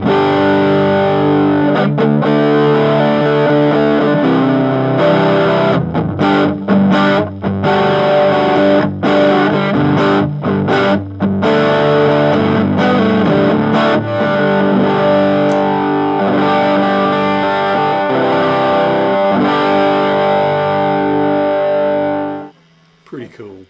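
A heavily distorted electric guitar through a Fender Mustang LT25 amp swirls through a sweeping flanger, chords ringing loud and noisy for about twenty seconds before cutting off abruptly.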